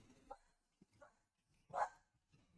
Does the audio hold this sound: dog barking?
yes